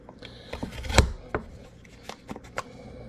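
Garlic cloves crushed in a hand mincer, a series of sharp crunching chops and scrapes, one loud close crunch followed by several lighter clicks, with no voices.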